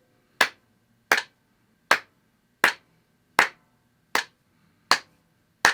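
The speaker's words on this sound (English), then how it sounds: "I'm going to clap one time per click." Single sharp hand claps keep time with a metronome, one per click, eight evenly spaced claps, crisp and close with silence between.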